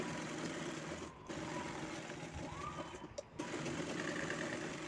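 A sewing machine runs steadily, stitching the side seams of a two-year-old's baby frock, a continuous close mechanical whir with two brief pauses.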